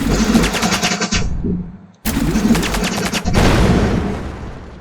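A rocket launcher fires in a space starship fighter video game, giving loud booming blasts with crackling tails. One burst is followed by a short gap, then repeated heavy detonations roll on and fade.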